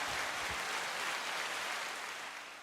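A room crowd applauds at the start of a podcast show, a dense continuous patter of clapping that slowly tapers off toward the end.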